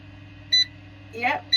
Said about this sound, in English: but it's beeping, so there's still not enough light really to run things.